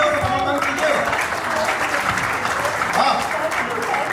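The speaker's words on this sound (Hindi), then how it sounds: "आप लोग सच तालियों से समर्थन कीजिए" Audience applause at a Republic Day poetry recital follows a song about a soldier's wife, loud, sustained clapping from the crowd with voices mixed in.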